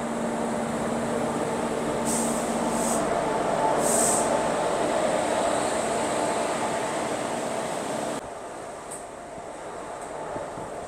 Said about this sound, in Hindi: रायरू रेलवे स्टेशन से अपनी MEMU ट्रेन निकल चुकी है अब